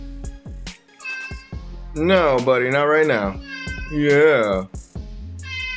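A cat meows repeatedly in long, drawn-out, insistent cries, close by, while a person talks to it in between.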